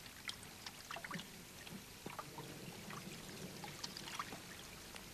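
Light rain dripping and pattering steadily, soft and sparse scattered drops with trickling water, faint and close with no voices.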